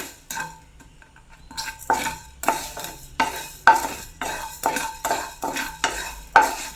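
Coriander seeds dry-roast in a pan over a low flame while a spoon stirs them in rhythmic scraping strokes, each stroke bringing rattles and clinks against the pan, close and distinct with short pauses between strokes.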